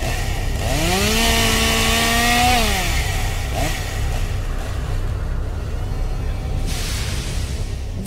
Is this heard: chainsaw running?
yes